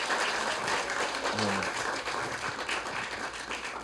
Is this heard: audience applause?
yes